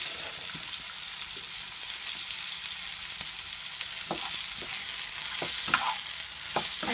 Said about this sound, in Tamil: ஒரு பச்சை மிளகாய் அதையும் சேர்த்து வதக்கணும். ஒன்னரமா வதக்கிடும்.